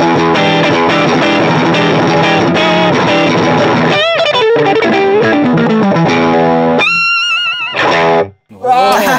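An electric guitar plays through an overdrive effect, a dense, distorted sustained passage with bending notes, loud and up front, ending in a few brief bursts and a short gap.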